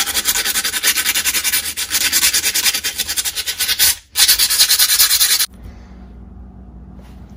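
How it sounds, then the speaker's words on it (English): Very fine sandpaper rubs back and forth on a cast iron art deco bookend in close, steady, rhythmic strokes, with a brief pause, before it stops abruptly and leaves a quiet hum. "I got some really, really fine sandpaper here."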